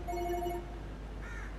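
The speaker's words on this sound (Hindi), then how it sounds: "इसका फोन आ गया ये" A phone rings indoors, a short electronic ringtone burst repeating a few times over a low background hum, then fading.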